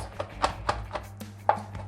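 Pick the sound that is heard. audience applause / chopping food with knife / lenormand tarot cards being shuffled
chopping food with knife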